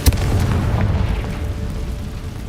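Confringo spell blast in the video game Hogwarts Legacy, a sharp, loud explosive hit at the start followed by a rumbling, crackling burn that fades over a couple of seconds.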